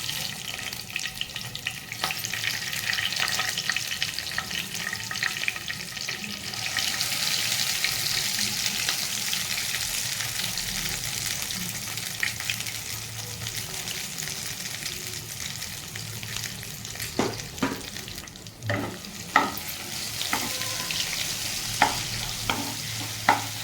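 Chicken curry sizzling and frying in a pan while being stirred, a steady close hiss with scraping spoon strokes and sharper knocks toward the end, no talking.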